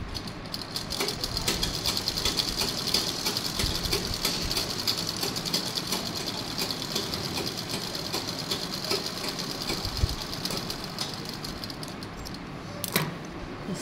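A sewing machine stitches along folded fabric in a fast, continuous mechanical chatter, close and steady, with a faint knock or two near the end.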